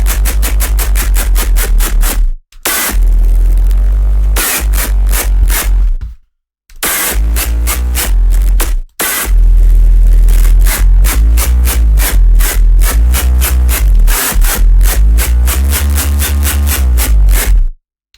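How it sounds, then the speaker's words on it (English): Crunchy dubstep Reese bass synthesized in Serum 2, playing loud and dense with rhythmic stuttering chops and several abrupt silent gaps between phrases, heard alone without talk. "So today we have this really nice Reese we're going to be making today."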